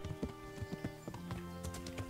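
Hooves clop rhythmically and close by as a horse walks in Kingdom Come: Deliverance, a medieval role-playing game, with a brief low voice partway through.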